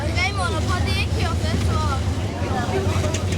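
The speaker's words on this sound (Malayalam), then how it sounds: "അപ്പോഴേക്കും ബോട്ട് ഹോങ് ഐലൻഡിൽ നിന്നും യാത്ര പുറപ്പെട്ടു കഴിഞ്ഞു." A tour boat departing Hong Island near Phuket, its engine droning low and steady under wind buffeting the microphone, with voices talking over it throughout.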